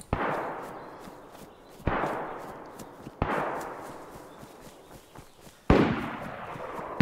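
Gunfire in the game DayZ Standalone: four loud, sharp shots at irregular intervals, each trailing off into a long reverberant tail, with no voices.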